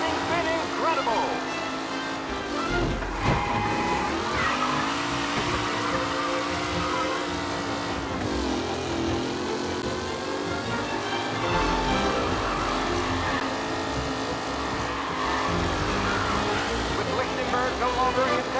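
Period race cars from Mafia Definitive Edition drive a race, their engines droning and whining steadily with shifting pitch throughout, while a voice speaks over them.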